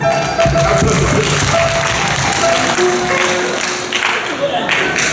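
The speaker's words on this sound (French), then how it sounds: "Merci, on applaudit pour le..." Audience at a book signing event with a priest applauds steadily for several seconds, clapping mixed with some voices and light background noise.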